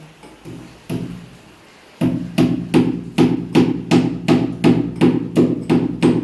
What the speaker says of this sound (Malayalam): നമ്മൾ മാർക്ക് ചെയ്ത ശേഷം കോൺക്രീറ്റ് ആണ് അടിച്ച് വെക്കുകയാണ്